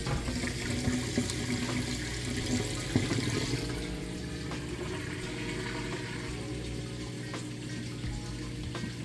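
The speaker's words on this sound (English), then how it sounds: "It's draining that water out nice and fast." A Whirlpool HE washing machine drains its wash water, giving a steady, close rushing and gurgling flow that runs continuously with no voices.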